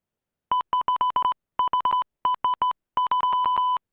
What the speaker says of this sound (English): I just sent you a Morse code.